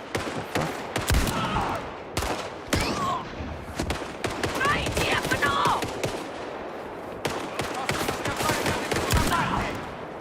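Heavy gunfire in sharp repeated bursts and volleys, loud and close, with short gaps between them and voices mixed in.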